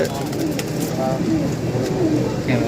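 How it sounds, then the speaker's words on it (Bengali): Several pigeons coo softly and steadily inside a loft housing Chinese pigeons, a continuous low murmur of overlapping calls with faint rustling, and someone talks over it. "চীনা কবুতর দেখ এটা কি এটা চীনা চীনা নর চীনা মাদি"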